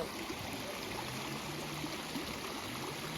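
A stream in Meghalaya rushes and gurgles in a steady, continuous wash of water, fairly faint and even, with no voices over it.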